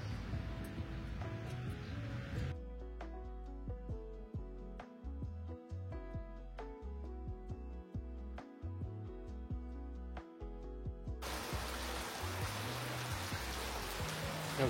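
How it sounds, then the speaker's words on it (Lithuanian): A rain shower falls in the Lithuanian town of Kupiškis, a dense hiss of drops at the start and again near the end, with a quieter, more tonal stretch between and no voices. "Jau banga užėjo lietaus."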